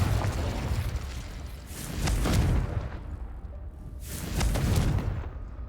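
Confringo blasting spells explode in Hogwarts Legacy, two loud booming bursts a couple of seconds apart, each trailing off into rumble.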